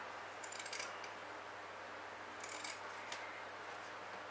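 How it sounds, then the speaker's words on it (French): Fabric scissors snip a few quick notches into the seam allowances of a sewn fringed bag, short crisp cuts in two small clusters, faint and close against a quiet room. "On crante juste les côtés, là où il y a des coutures."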